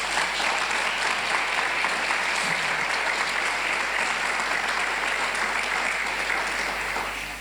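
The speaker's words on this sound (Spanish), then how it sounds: "Den un aplauso a la palabra de Dios." Steady, loud applause from a church congregation fills the space, a dense sustained clapping that holds evenly for several seconds before tapering slightly at the end.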